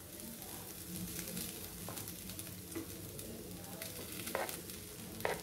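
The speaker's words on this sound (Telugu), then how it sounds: "ఉడికించుకున్న రైస్ వేసుకుందాము" Cooked rice fries in a pan with okra and fresh coconut, giving a steady soft sizzle with occasional stirring scrapes. It sounds close and fairly quiet, with no talk.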